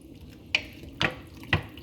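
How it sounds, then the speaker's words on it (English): Water pours into a crockpot for turkey chili in three short splashing bursts about half a second apart, close and moderately loud, with no voices. "a cup and a half, 2 cups of water. I pour it in here."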